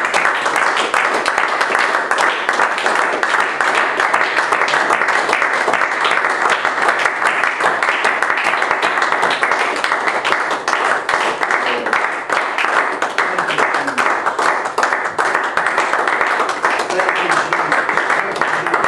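A church congregation gives a long, loud, continuous round of applause, dense clapping filling the room with voices faintly mixed in underneath.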